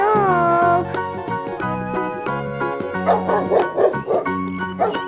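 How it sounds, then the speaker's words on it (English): A dog gives several quick, fairly loud barks in a row after a brief sung or musical tone, with background music continuing beneath. "D for dog."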